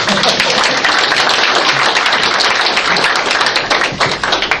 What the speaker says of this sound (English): You can give another round of applause for Kirsten.